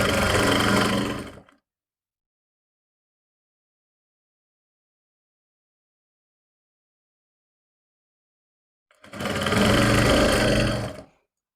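A sewing machine stitching a salwar belt runs in two short, loud bursts separated by a long silent pause, each burst a dense mechanical whir lasting a second or two.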